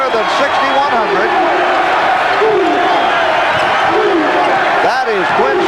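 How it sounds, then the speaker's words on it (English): A loud, sustained roar from a packed college basketball arena crowd of over 6,100 at a Duke versus Miami game, with sneaker squeaks and a commentator talking over the constant noise. "Boy, what a reaction from this crowd."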